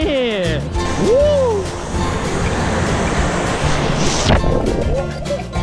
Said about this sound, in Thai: เรามาถึงชายหาดทะเลแล้ว